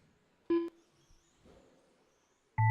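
At a dirt-track raceway finish, two loud electronic buzzer beeps sound, a short tone followed by a longer one after a gap of about two seconds, with faint background noise between them.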